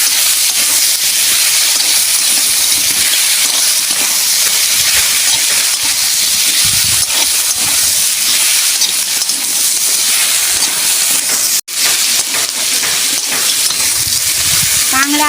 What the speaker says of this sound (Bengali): কাঁকড়া, পেঁয়াজ, টমেটো আমি ভালো করে ভেজে নিয়েছি